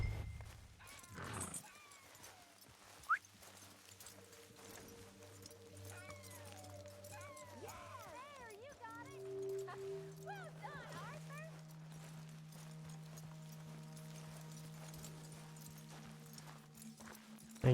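Horse hooves clip-clop in Red Dead Redemption 2 beneath a swelling orchestral score, moderately loud, with a brief snort near the start and a person talking quietly over it.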